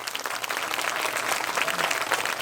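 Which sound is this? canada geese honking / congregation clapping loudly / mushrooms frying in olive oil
congregation clapping loudly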